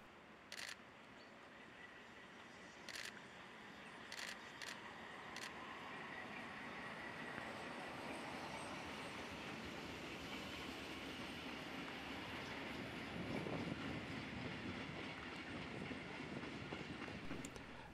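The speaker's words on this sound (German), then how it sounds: "Nun passiert der Zug gerade Kunnersdorf bei Kamenz." Steam locomotive 58 1111 hauls a freight train through Kunnersdorf station near Kamenz in Lusatia, a steady rumbling roar of wagons rolling past with rhythmic wheel clicks and a few sharp clanks, building slightly louder toward the end, with no talking.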